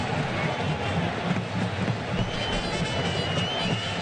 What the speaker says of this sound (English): This crowd is very loud